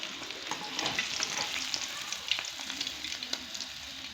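Masala fish pieces frying in hot oil for a restaurant-style Lahori fish fry, a close, busy crackling sizzle with bursts of popping and some stirring, steady throughout without any voices.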